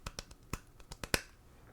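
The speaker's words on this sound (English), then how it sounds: "nice little clap here" Little hand claps held right up to a microphone, a quick string of around eight crisp taps, the last one the loudest, with nothing else around them.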